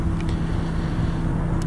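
A 2006 Subaru Legacy Outback AWD wagon engine runs at a steady idle, a continuous low hum close by with no talk, broken only by a couple of faint clicks.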